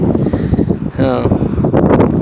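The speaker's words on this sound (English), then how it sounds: "It's been really windy up here if you notice." Gusty wind buffets the microphone at a rail yard, loud rumbling bursts mixed with a passing tonal whine, while someone talks over it.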